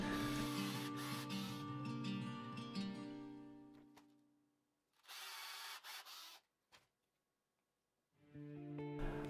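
A power drill bores weight holes into a wooden trout swimbait, heard as close, loud whirring bursts: a long stretch of drilling, a short burst after a pause, then a second short burst, with quiet gaps between.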